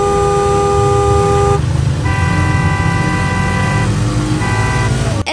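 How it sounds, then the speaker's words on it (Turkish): Car horns blare loudly and almost without pause in Lahore city traffic, several overlapping tones in long sustained honks over a dense rumble of traffic. "kulağınızı delercesine yükselen korna sesleri duyuyorsunuz"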